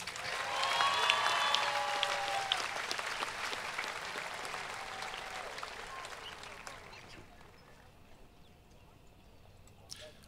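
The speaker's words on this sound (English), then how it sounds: "Please give them a round of applause." Large commencement crowd at Fullerton College applauding, with a broad wash of clapping and scattered whistles and cheers that swells early and then gradually dies away.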